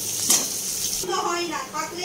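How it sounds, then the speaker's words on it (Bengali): Chopped onion pieces fry in hot oil in a pan for chilli fish, giving a brief, steady sizzle with a light scrape of stirring. "পেঁয়াজগুলো একটু ভাজা ভাজা হোক"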